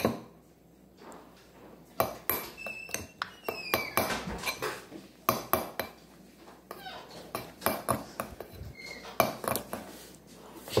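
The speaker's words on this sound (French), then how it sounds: "d'abord on mélange bien pour enlever tous les petits morceaux" A utensil stirs a fluffy batter in a bowl, producing quick, irregular clinks and scrapes against the bowl's sides, close and fairly loud, with brief pauses between bursts.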